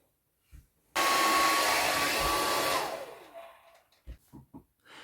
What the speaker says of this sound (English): What I had to do was heat up this area with a hairdryer